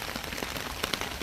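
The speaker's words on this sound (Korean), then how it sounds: "비가 제법 많이 내리고 있습니다. 빗소리가 들립니까?" Heavy rain falls outdoors on a wet day, a dense, steady hiss with scattered sharper drops and splatters close by, and no voices.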